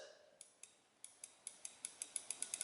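Aftermarket motorcycle brake lever clicking through its adjustment detents, a run of crisp, close ticks that start sparse and speed up into a steady, faster rhythm over a quiet background.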